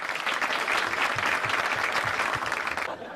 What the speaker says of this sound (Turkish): dahi bir alkışlayalım arkadaşlar